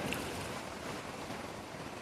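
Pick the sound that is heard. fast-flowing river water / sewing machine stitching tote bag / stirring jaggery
fast-flowing river water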